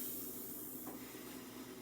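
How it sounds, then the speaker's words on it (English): Grilled cheese sizzling in a hot buttered pan, a steady broadband hiss that holds at an even level throughout, close and continuous with no voices. "And then you hear that sizzle right there?"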